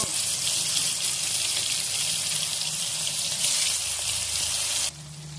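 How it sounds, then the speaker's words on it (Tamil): Marinated chora (meen) fish lands in hot oil with curry leaves, setting off a loud, dense, continuous hiss of frying that drops off abruptly near the end. "இப்போ மேக்னேட் பண்ணி வச்சுருக்க ஃபிஷ்ஷை போட்டுக்கலாம்."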